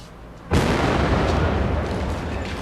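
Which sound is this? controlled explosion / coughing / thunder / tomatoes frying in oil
controlled explosion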